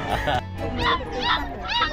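Several dogs barking and yipping in short bursts at close range, mixed with people talking at an outdoor Christmas-season gathering in the Philippines.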